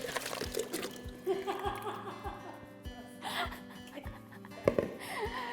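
Cold water poured over bare feet during a hot-and-cold foot treatment, with intermittent splashing and trickling, and a person audibly reacting with breaths and faint vocal sounds.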